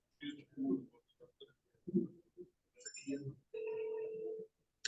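A telephone rings through a speakerphone at a building-sector summit, a steady ringing tone sounding briefly amid voices talking nearby.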